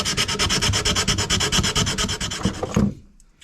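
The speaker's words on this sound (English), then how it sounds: "I'm using 180 grit sandpaper" Sanding wooden bowie knife handle scales by hand with 180 grit sandpaper, a loud, close, rapid back-and-forth rasping in steady strokes that stops abruptly near the end.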